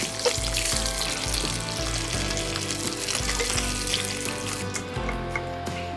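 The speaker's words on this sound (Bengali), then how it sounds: "আমাদের মাছ ভাজা কমপ্লিট" Shol fish frying in oil makes a loud, steady sizzle close up, with crackling spits and a low bubbling rumble underneath, and no voices.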